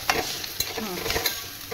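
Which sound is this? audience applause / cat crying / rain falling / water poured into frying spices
water poured into frying spices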